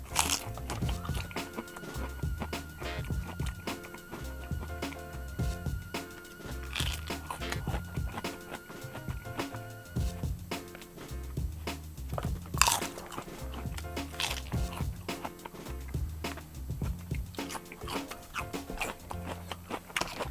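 Steady crunching and chewing during a taste test of food including raw cucumber, close and repetitive bites continuing throughout with a sharper crunch partway through.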